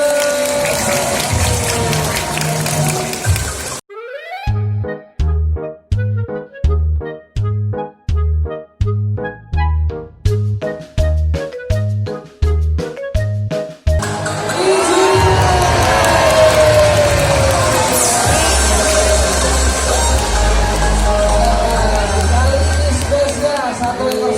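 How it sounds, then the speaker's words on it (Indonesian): A crowd at a sea lion show at Ocean Dream Samudra Ancol cheers and claps loudly after a burst of thumping rhythmic music, while a presenter talks over the noise. "Boleh berikan semangat tepuk tangan lagi dong semuanya"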